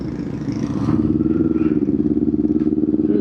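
Motorcycles ride together on a mountain road, their engines giving a loud, close, throbbing hum with rapid rhythmic pulsing that grows stronger after the first second, while a voice speaks faintly underneath.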